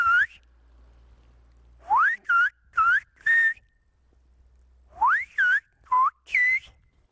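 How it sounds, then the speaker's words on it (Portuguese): Silbo, the whistled language of the Canary Islands, carries whistled greetings: two groups of four sharp, loud, close whistles with rising and falling pitch glides, separated by a brief pause over a faint low hum. "Agora vou assobiar buenos dias, buenas tardes e buenas noches."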